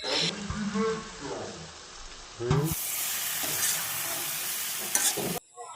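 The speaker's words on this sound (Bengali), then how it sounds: "চিকেনগুলো দিয়ে হচ্ছে মশলার সাথে ভালো করে নেড়েচেড়ে মানে মিক্স করে নেওয়া হচ্ছে" Chicken pieces being stirred and fried with spices in a pot for homemade dum biryani, a steady loud sizzle with scraping stirs throughout, and a voice talking over it at the start.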